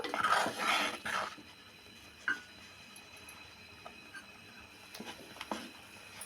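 A spoon clinks and scrapes faintly against a cooking pot while buttermilk is stirred into majjiga charu, a soft run of sparse taps and knocks in a quiet kitchen.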